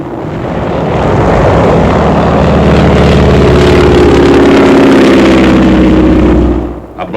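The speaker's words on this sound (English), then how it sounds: "Low-flying planes strafe the enemy." Low-flying warplanes strafing enemy positions in 1945 wartime combat footage, a loud, sustained engine roar that swells and holds for several seconds before fading, with no speech.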